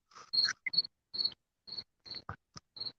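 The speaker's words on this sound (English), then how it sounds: "It sounds like a cricket or some shit." A cricket chirps in short, evenly spaced bursts, about nine sharp high pulses over a few seconds, fairly close and clear against near silence.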